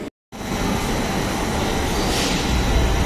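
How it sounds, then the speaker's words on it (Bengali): A Kolkata metro train arrives at the Noapara platform bound for Dakshineswar, a loud steady rumbling roar of wheels and carriages that fills the whole stretch after a brief cut at the start. "নোয়াপাড়ার যে মেট্রোটা আসবে সেটাই দক্ষিণেশ্বর যাবে"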